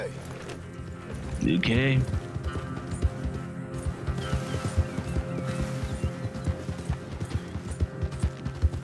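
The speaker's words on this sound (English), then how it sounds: "There's a horse." A horse in the Red Dead Redemption 2 video game gives a brief whinny early on, followed by a steady run of close clip-clop hoofbeats, with someone briefly speaking.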